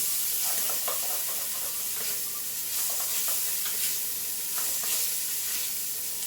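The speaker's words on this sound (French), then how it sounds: "les lardons, ils ont suffisamment cuit, enfin rissolé quoi, pour rendre un petit peu de matière grasse" Lardons fry in a pan with only a little oil, giving a steady close hiss and sizzle broken by light stirring knocks and spatters, with no one talking.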